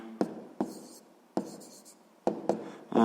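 Pen writing down an answer to a sixth-grade math exercise, close and soft, heard as short scratchy strokes separated by small taps and brief pauses.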